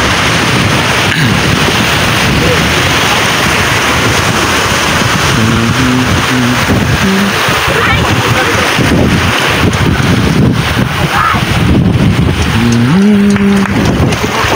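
Strong wind roars steadily across the microphone on a fishing boat at sea, a loud continuous rush with a faint engine hum underneath.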